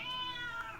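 A pet cat gives a single drawn-out meow close by, clear and tonal with a slight rise and fall, alone in a quiet room.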